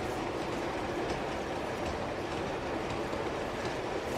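Train rolling along steadily in an Uncharted 2 game level, a dense continuous rumble with faint clickety-clack, loud and close throughout with no pauses.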